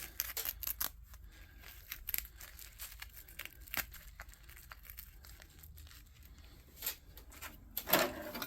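Plastic being pulled, snipped and crinkled out of a brass faucet part for scrap, sharp irregular clicks and rustles close by with a louder scrape near the end.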